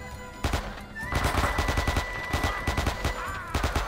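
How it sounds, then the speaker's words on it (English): A submachine gun fires rapid bursts in the World War II shooter Men of Valor, dense clattering shots in quick succession with a steady tone running beneath, loud and close. "Use this submachine gun."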